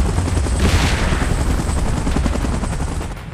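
Helicopter in PUBG Mobile gameplay, a loud, steady rotor roar with rapid chopping pulses filling the whole moment, gunfire-like crackle layered in, no voices.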